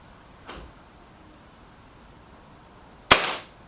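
An air rifle, the Reximex Lyra K carbine, fires one sharp, loud shot near the end, preceded by a fainter soft knock a few seconds earlier in otherwise quiet surroundings.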